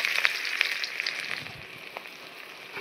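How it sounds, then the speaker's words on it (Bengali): Chopped onion frying in a wok in plenty of oil rendered from fish fat, a steady close hiss and sizzle with a few crackles that eases slightly toward the end. "দেখুন মাছ ভাজার সেই অনেকটা তেলের মধ্যে দিদা দিয়ে দিচ্ছে পেঁয়াজ কুচি"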